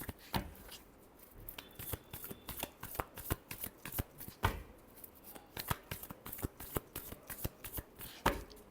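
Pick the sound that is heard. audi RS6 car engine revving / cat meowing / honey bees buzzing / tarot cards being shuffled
tarot cards being shuffled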